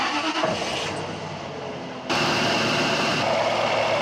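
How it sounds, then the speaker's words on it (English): A Jaguar XJR engine cranks and starts in a garage after water pump and belt tensioner work, catching with a sudden rise into a steady idle while the AC belt gives a brief squeak. "AC belt just did a little bit of a squeak."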